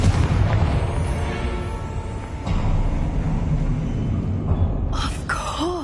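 A Confringo blasting spell explodes in Hogwarts Legacy, a loud booming rumble with a heavy low-end blast that rolls on for several seconds, followed near the end by sharper magical bursts and whooshing tones.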